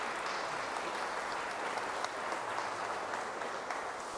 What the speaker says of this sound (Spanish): Vamos a darle un fuerte aplauso a este nuevo matrimonio.